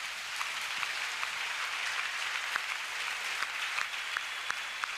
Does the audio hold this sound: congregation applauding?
yes